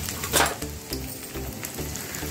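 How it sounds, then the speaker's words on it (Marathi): Garlic fries in a little oil, giving a soft, close sizzle with light stirring clinks and a steady low hum underneath. "आणि लसूण आपल्याला छान तळून घ्यायचं आहे"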